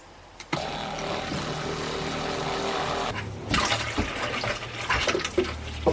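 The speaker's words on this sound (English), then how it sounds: "So we close the bypass, turn on the pump." A small pump switches on with a click and pushes water through household water lines, giving a steady rushing hiss that shifts into uneven gurgling and sputtering as air is blown out of the pipes.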